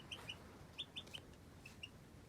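Twelve-day-old chicks on a desert farmstead peep in short, high, faint chirps, a handful of scattered calls over a quiet background.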